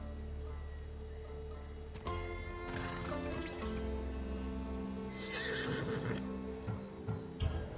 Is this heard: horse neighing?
yes